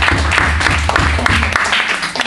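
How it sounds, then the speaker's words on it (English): A small group claps for a teacher at a teaching practicum event, brisk close applause with a low hum underneath that thins out toward the end. "Please, let's give her a round of applause."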